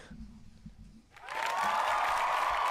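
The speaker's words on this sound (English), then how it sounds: "You got applause, bro." Applause breaks out from an audience, a dense, steady burst of clapping that swells up quickly after a moment of quieter background sound and holds loud to the end.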